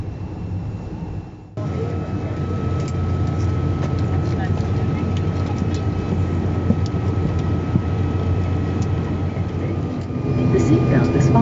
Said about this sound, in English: Little prop plane.